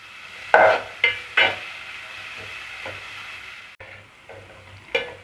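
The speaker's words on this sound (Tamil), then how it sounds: "வெங்காயம் நல்லா கோல்டன் ஃப்ரை ஆகிற வரைக்கும் வதக்கி விட்டுட்டே இருங்க" Onions sautéing over a low gas flame until golden for a potato and pea kurma, with a steady soft sizzle and a few louder scrapes and stirs of a spatula.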